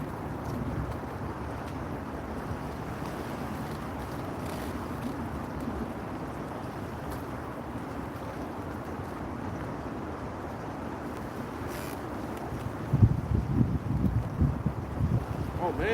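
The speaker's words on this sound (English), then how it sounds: "that cold wind against my toesies" Cold wind blowing steadily outdoors by the water, buffeting the microphone as a continuous low rumble that grows stronger near the end, with someone talking briefly.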